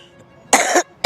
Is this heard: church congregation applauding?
no